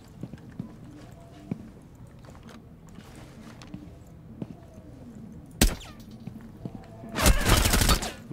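Gunfire in the tactical shooter Rainbow Six Siege: a single sharp shot cracks out midway, then a louder, longer burst of fire near the end, set against a quiet, low game background.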